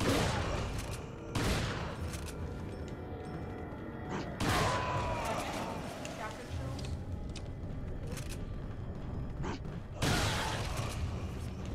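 Shotgun blasts in the video game Resident Evil 4 boom out at irregular intervals, loud sharp bursts with mechanical clatter between them.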